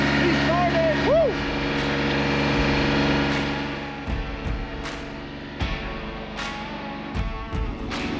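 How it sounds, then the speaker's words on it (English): A tractor engine idles steadily after a cold start, a loud continuous low rumble with a few knocks and clatters, and a voice briefly whoops over it near the start. "I'm glad the tractor started for this video"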